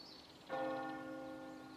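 A church bell strikes once, its deep ringing tone swelling and slowly fading, heard at a distance.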